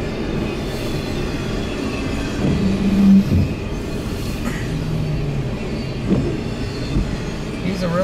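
Freight train led by BNSF with NS and CSX locomotives rolls past in snow, a steady loud rumble of wagons with clanks, brief wheel squeals and faint horn-like tones, with occasional voices in the background.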